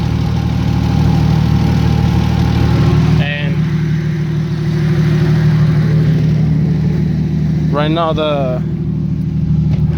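A Toyota 1JZ-GTE engine swapped into a Mazda RX7 FD idles loudly and steadily through a cut exhaust, a deep rumbling drone close by, with someone talking briefly over it.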